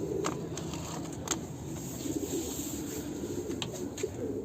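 Takla pigeons cooing softly inside a breeding coop, low murmuring coos over a steady background hum, with a few faint sharp clicks and clatters scattered through.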